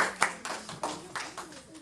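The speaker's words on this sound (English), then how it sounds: "Big round of applause to all the kids." At a Srimad Bhagavatam session in a cultural center, a small, sparse group claps for the children with scattered, distinct hand claps at a moderate level, while a voice murmurs underneath.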